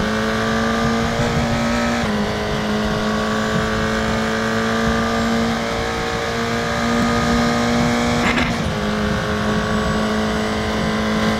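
Race car engine in the Raceroom racing game at Spa, revving hard and accelerating out of a corner with a steady high-pitched drone and a brief gear-change surge, loud and continuous throughout.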